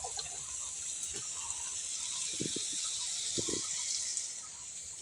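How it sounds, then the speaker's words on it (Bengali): Broth poured into a pan of braised, fully cooked curry during home cooking for a pre-dawn meal, giving a faint, steady liquid trickle with no voices. "তো এখন আমি ঝোল দিয়ে নিব।"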